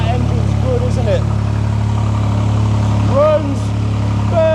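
A fire-damaged BMW M4 engine idles with a steady, even hum close by, running continuously while someone talks over it.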